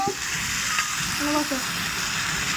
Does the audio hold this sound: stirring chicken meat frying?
yes